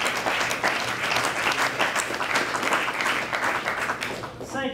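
Steady crowd applause at an engineering competition ranking ceremony, a continuous wash of clapping from a large audience, fairly distant, with a brief voice right at the end.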